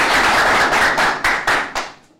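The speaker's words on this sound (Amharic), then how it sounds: "ለደሴና በደሴ ዙሪያ ላሉ ተወዳዳሪዎች ሞቅ ያለ ጭብጨባ እንስጣለን" An audience at a contest event in Dessie applauds the contestants, a loud burst of clapping that swells and then fades out in a few trailing waves.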